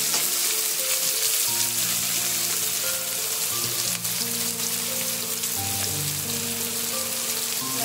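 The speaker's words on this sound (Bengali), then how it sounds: "ভালো করে ভেজে নেব, লাল লাল করে।" Spices and onions fry in a pan with a continuous, close, crackling sizzle, heard alone without talk.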